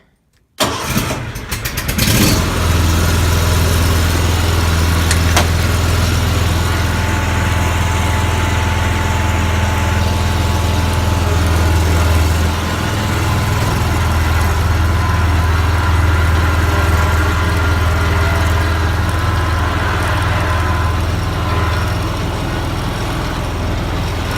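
A John Deere Z920M zero-turn mower's engine starts and then runs steadily at a loud, close, continuous drone for the whole stretch, with no voices over it.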